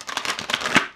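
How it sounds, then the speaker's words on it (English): Oversized tarot cards are riffled and shuffled in a quick flurry of papery flicks lasting about a second, close and clear, with no talking. "These cards are just a little big and harder to shuffle"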